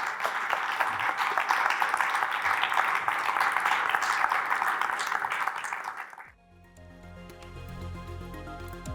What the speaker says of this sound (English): Stephen Yu, Gabriel Boyle, and George Barrow, a round of applause.